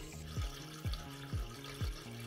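Water is poured into the aquatic section of a rainforest terrarium, giving a soft, faint gurgling with about four evenly spaced glugs, close by and without voices.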